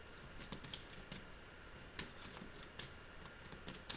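Oracle cards shuffled and handled close by in a card-reading session, a steady papery patter of soft slides and light taps running throughout, with no voices.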